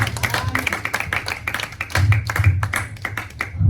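Church congregation clapping in praise of the Lord, a dense run of handclaps that swells louder midway, with some voices mixed in.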